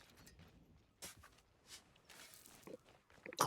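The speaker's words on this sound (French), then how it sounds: "t'entends les bruits de pas" Soft, irregular footsteps pad along at a distance in the video game Sea of Thieves, ending in a louder cluster of steps close by.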